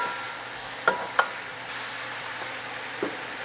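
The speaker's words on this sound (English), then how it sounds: "and now we could add the mushrooms." Mushrooms go into a frying pan for a Lebanese lamb omelette, a soft steady sizzle with a couple of sharp clinks of utensils against the pan and a light scrape near the end.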